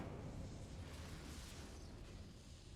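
A fiery burst from the Incendio spell in Hogwarts Legacy roars steadily for nearly three seconds, a sustained whooshing blast with a low rumbling body and no pauses.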